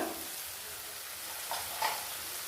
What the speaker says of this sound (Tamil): இதையும் இந்த எண்ணெயில் கொஞ்சம் வதக்கிக்கிடலாம்